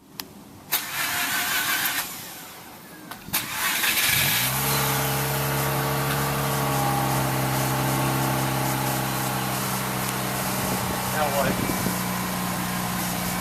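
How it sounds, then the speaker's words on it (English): A Mazda RX8 rotary engine cold-starts after a couple of cranking bursts, catches with a loud bark and then settles into a steady, raised idle with slight revs, close to the microphone. "So, cold start on the blue RX8."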